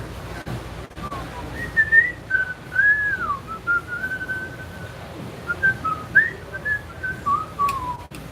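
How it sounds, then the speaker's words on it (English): A person in a knife shop whistles a wandering melody, clear and fairly close, over a low murmur of room noise. "Oh, my whistling."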